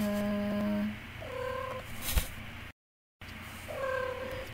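A house cat meows several times in close succession, the drawn-out tonal cries near and clear, with a short break of silence before one more meow follows.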